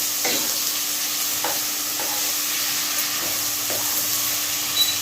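Masala with ginger garlic paste fries in oil in a pan, a continuous strong sizzle with periodic scraping strokes as it is stirred, about one every second, close and loud.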